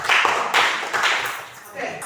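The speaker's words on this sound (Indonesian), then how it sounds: "Oke, tepuk tangan tadi untuk kelompok 1." A classroom group claps in short bursts for a student team, fairly close, with voices mixed in.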